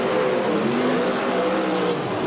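Race cars at Archerfield Speedway, Australia, in a 1981 heat, roaring continuously around the track with a steady, dense engine drone and shifting pitch as cars pass, loud and unbroken.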